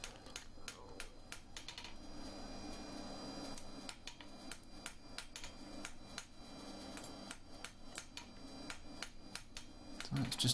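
Sharp metallic hammer taps on a stainless steel penannular brooch, a quick irregular series of close, ringing strikes repeating throughout with short pauses.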